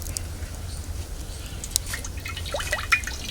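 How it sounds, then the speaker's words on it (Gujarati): Cooking oil poured into a kadai to begin a Kathiawadi onion gravy, a soft liquid trickle with small drips and splashes over a low steady hum, quiet and close. "સૌથી પહેલાં કઢાઈમાં આપણે તેલ નાખીશું."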